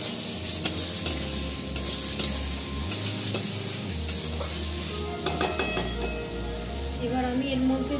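Dark soy sauce poured into sizzling chilli chicken in a pan, with steady frying hiss, stirring scrapes and sharp utensil clicks against the pan, close and fairly loud, continuing throughout without speech.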